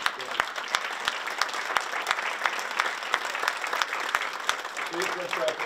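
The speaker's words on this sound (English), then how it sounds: "give Kathy a big round of applause." A town hall audience gives a steady, fairly loud round of applause, with dense overlapping clapping that continues evenly throughout.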